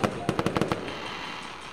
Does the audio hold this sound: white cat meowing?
no